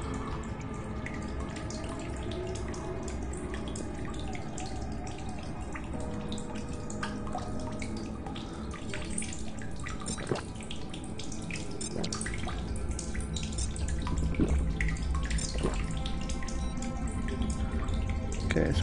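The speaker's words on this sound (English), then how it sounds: "Water." Running and dripping water in The Solus Project, played in VR, with a steady close rush of flowing water and scattered drip and splash sounds that grow slightly louder toward the end.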